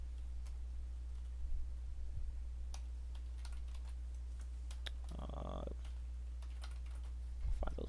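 Steady, faint tapping of keys on a computer keyboard runs through the whole stretch, with scattered clicks over a constant low electrical hum and one brief murmur in the middle.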